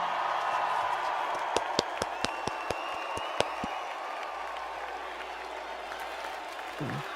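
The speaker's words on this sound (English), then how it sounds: "Everybody stand up and applaud now." Crowd applause in the video game Metaphor: ReFantazio, a soft wash of clapping and crowd noise with a run of about eight sharp, distinct claps standing out near the start, then steady ambience.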